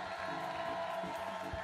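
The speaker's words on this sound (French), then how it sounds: "tonnerre d'applaudissements, s'il vous plaît" A crowd at the Stunfest 2022 Silver Geek seniors' trophy ceremony applauds Michel and Jean-Michel, a brief dense wash of clapping and cheering, with a voice faintly underneath.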